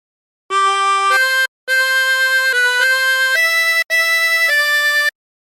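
Chromatic harmonica playing Hark The Herald Angels Sing, a string of clear sustained reedy notes in three breath-phrases separated by short pauses, loud and alone.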